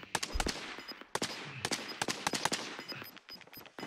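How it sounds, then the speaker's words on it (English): Bursts of rapid automatic gunfire and scattered single shots in the Warzone video game, sharp repeated cracks in uneven clusters throughout, fairly close and loud, with no talking. "keep throwing shots, Sam."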